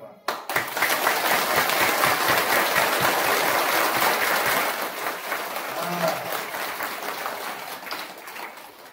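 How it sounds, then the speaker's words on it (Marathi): A crowd at a religious discourse gathering claps loudly with hands raised, a dense, sustained wash of applause that swells quickly and holds steady for several seconds before easing slightly. "वर हात करून जोरात टाळी वाजवा"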